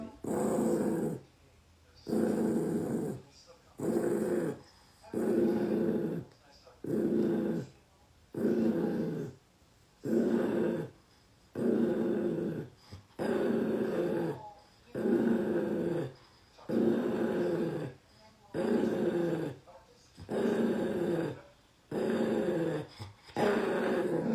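A small dog growls in repeated rumbling bursts, each a second or two long, separated by short pauses, close and fairly loud throughout.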